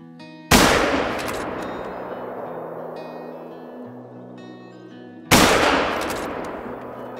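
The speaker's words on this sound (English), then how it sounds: "we got 2 shots off on it" Two sharp, loud rifle shots fired at an animal in the hunting game theHunter Call of the Wild, spaced about five seconds apart, each cracking out and ringing into a long fading tail over quiet background tones.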